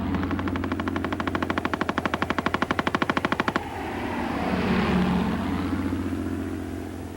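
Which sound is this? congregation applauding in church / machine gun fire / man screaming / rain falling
machine gun fire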